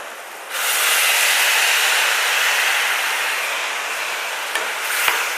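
Water poured into a pan of sautéed brinjal sets off a loud, steady hiss and sizzle that starts suddenly and holds for several seconds, with a couple of faint clinks near the end and no voices.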